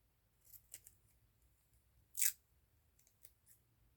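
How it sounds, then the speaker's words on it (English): Scissors snipping strips of washi tape, a few faint soft cuts scattered through a quiet space with one sharper, brighter snip near the middle. "So I'm just going to take some washi. Let me get rid of that little piece. I'll just cut a couple of pieces here."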